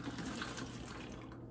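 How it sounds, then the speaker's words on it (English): White vinegar poured into a water bottle, a short close liquid trickle and splash with a hollow filling tone, faint and continuous for about a second and a half. "we poured in our vinegar into our water bottle"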